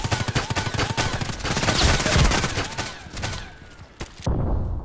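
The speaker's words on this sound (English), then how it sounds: "But shooting like this, the recoil, and it takes ages to shoot again." Rapid repeated shotgun blasts from a KelTec KSG pump shotgun in the shooter game Contract Wars, closely spaced loud reports over mixed battle noise that drop away abruptly near the end.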